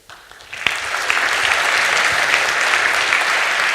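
Audience applause at the close of a talk swells quickly after a quiet start and then holds as a loud, dense, sustained wash of clapping for several seconds.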